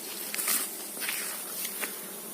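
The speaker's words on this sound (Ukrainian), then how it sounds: "І бжілкам жаркувато." Bees at an apiary in hot weather make a soft, continuous buzzing hum. Brief louder passes break through now and then as individual insects fly close.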